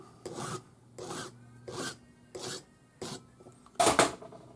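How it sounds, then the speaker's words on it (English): A metal file rasps across a length of rivet wire to flatten it: six separate strokes, close and crisp, spaced about once a second, with the last stroke heavier. "file it flat"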